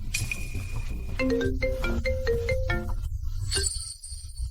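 A synthesized phone ringtone plays a short melodic sequence of tones, ending with a higher electronic chirp, fairly loud and close.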